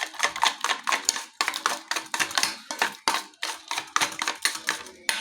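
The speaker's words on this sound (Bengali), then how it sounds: "এইভাবে সবগুলো আমি ঘেটে নিই" A spoon scrapes and clinks against a bowl while mixing ingredients seasoned with salt, giving rapid, irregular knocks in close, uneven bursts with brief pauses.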